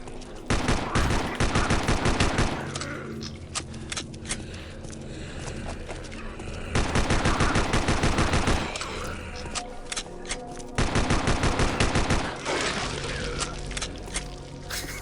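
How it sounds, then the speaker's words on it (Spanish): Rapid bursts of Glock pistol gunfire in the 2009 PC zombie shooter Day of the Zombie, three dense volleys of repeated shots separated by quieter stretches of game noise and footsteps, loud and close. "Voy a usar la Glock."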